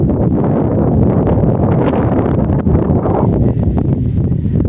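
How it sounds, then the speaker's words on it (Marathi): Loud, continuous gusting wind batters the microphone with a heavy low rumble and rustling, unbroken for the whole stretch, on a trek up Irshalgad fort. "वारा खूप आहे."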